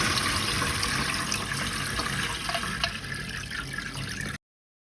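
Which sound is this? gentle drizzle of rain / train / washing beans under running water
washing beans under running water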